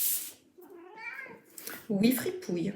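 A pet cat named Fripouille gives short meows, partly overlapped by a nearby French-speaking voice addressing it.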